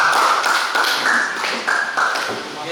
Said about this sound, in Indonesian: Oke, beri aplaus untuk kelompok 3.